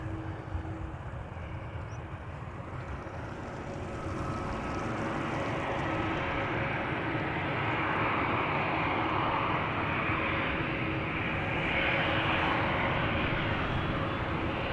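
A Boeing 737 jet airliner departs on the Polderbaan at Amsterdam Schiphol, a distant engine rumble that swells gradually and then holds as a broad, moderately faint roar.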